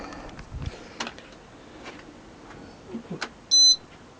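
A faulty Meta 357T alarm/immobiliser on a Kawasaki ZX6 motorcycle gives a single short, clear electronic beep near the end, after quiet handling and fiddling noises.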